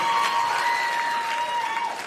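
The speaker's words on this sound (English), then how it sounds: "The women always cheer, and there's always one guy that boos." A stand-up comedy audience applauding and cheering, a dense continuous wash of clapping from a large crowd with faint whoops mixed in, filling the whole moment at steady loudness.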